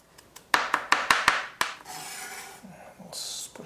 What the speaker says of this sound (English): I'm just going to chop up the garlic here, and we're going to further dice it.